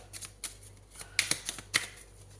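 Oracle cards being shuffled and drawn by hand, a quiet series of short papery flicks and slaps in an uneven rhythm, close and soft with no talking.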